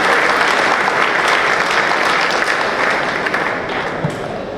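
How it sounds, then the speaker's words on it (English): Audience applause at a bar association felicitation ceremony for a new chief justice, loud sustained clapping from a large crowd that slowly tapers toward the end. "ladies and gentlemen, please a round of applause for the senior."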